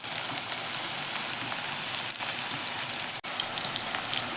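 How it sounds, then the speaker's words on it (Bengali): Potato pieces fry with salt in oil over a cumin and dried chilli tempering, a dense, even crackling hiss full of fine pops that carries on steadily without pause. "আলুটা একটু লবণ দিয়ে ভালো করে লাল লাল করে ভেজে নিতে হবে।"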